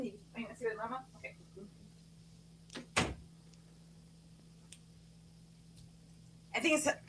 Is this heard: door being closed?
yes